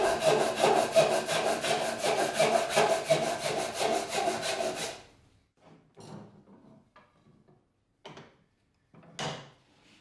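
Hand saw cutting diagonally through a wooden workpiece for a Japanese corner splice joint: about five seconds of quick, even rasping strokes, close and clear, then quiet with a few soft wooden knocks and shuffles.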